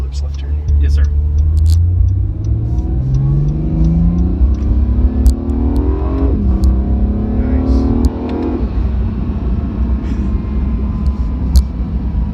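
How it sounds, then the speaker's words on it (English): A 2018 Acura NSX engine drones low and loud, its pitch climbing steadily before dropping sharply twice as the car slows and shifts down. "It'll help you downshift like right now because we automatically slowed down."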